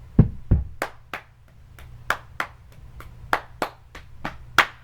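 Cheerleaders clap through a group tryout cheer performed at a slower speed, a sequence of about a dozen crisp, close handclaps at an uneven rhythm with a couple of heavier thumps at the start.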